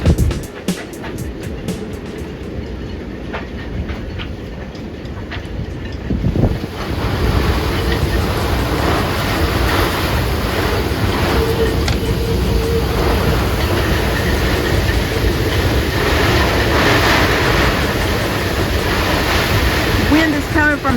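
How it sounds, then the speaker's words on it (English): Strong wind roars across the microphone while waves churn on the water during a tropical storm at a sailboat mooring, a loud continuous buffeting rush that swells midway and keeps pounding. "Wind is coming from the south and the west."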